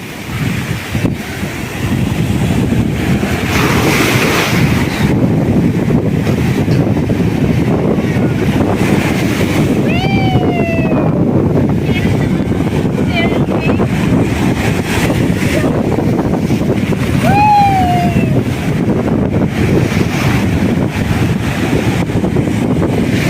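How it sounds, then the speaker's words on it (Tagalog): Big ocean waves surging and breaking on a beach at La Union, a steady loud wash of surf heavily buffeted by wind noise on the microphone, with faint high voices calling out briefly in the background. "ang laki ng alon, no?"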